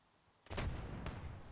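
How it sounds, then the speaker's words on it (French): A grenade bursts in the mobile shooter Standoff 2, a single sharp, loud blast with a rumbling tail and a second crack shortly after. "une belle grenade sur Suzuki, là."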